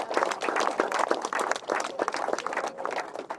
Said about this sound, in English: Big round of applause for those.